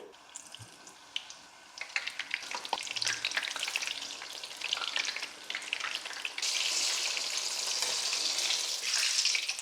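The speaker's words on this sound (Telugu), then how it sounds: "ఎందుకంటే మనం సెకండ్ టైం ఫ్రై చేస్తాం కాబట్టి కట్ మిర్చికి అయితే ఇలానే మనం మిగతా బ్యాచ్ కూడా వేసేసుకోవాలి" Chilli bajji (cut mirchi batter fritters) frying in hot oil for a large batch, a steady bubbling sizzle that swells louder and denser partway through as more pieces go in, with a few light clinks.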